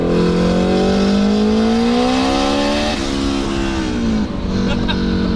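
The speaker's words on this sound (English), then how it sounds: "What do you think about the turbocharged S2000?" A turbocharged Honda S2000 engine revs hard while driving, its rising tone climbing through the gears with a brief dip at a shift, loud and close inside the cabin, with talk partly heard over it.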